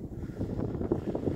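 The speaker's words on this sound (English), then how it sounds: "sorry about the wind" Wind buffets a microphone outdoors beside a 2019 Peterbilt 389 truck with an extended hood and 78-inch stand-up sleeper, a steady low rumbling roar that fills the whole moment without letup.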